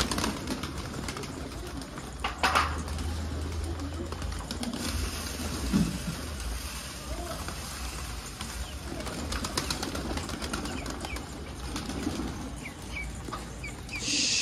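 Pigeons crowd and jostle at a feeder inside a loft, giving soft coos, scuffling and occasional wing flaps at close range, steady and moderately quiet, with a person speaking now and then.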